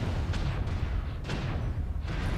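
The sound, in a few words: weapon fire at an enemy mech in a MechWarrior-style video game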